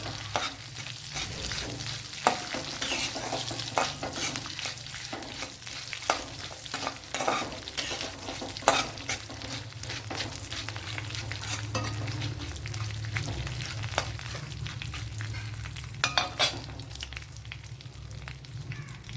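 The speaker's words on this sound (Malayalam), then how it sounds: "ഇപ്പോൾ ഉണക്ക തേങ്ങ ചേർത്ത് കൊടുക്കുന്നതായിരിക്കും കുറച്ചുകൂടി നല്ലത്. ഇത്രയൊന്ന് ഫ്രൈ ചെയ്തെടുക്കണം." Dried coconut fries in a pan for a bitter gourd curry, giving a steady close sizzle broken by frequent sharp stirring scrapes, with no one speaking.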